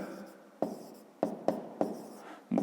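A marker or chalk writes math on a board in five crisp taps, each followed by a brief scraping stroke, spaced somewhat irregularly. The sounds are close and fairly quiet, with no talking.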